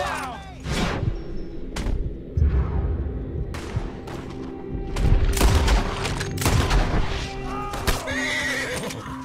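Gunfire in Red Dead Redemption 2: a handful of sharp, loud shots crack at irregular moments amid horse whinnies and clopping hooves during a chaotic shootout.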